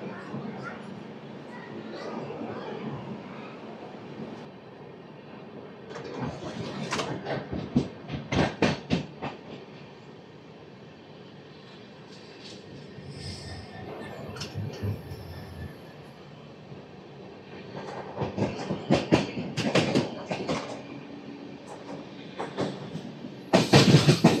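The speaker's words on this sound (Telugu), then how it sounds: "ఒక 3 minutes తర్వాత తుని స్టేషన్ నుంచి మన ట్రైన్ స్టార్ట్ అయిపోయింది" The Garib Rath Express, running from Visakhapatnam to Secunderabad, rolls on after leaving Tuni station. Its wheels clatter in steady rhythmic clickety-clack, with louder passages over joints and a voice talking now and then.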